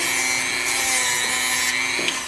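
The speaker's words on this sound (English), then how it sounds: "use one of these little soft little sanding wheels" A soft sanding wheel on a rotary tool smooths the edges of a CNC-made wooden project box, giving a steady close whine and rubbing hiss that holds for about two seconds with a small bump near the end.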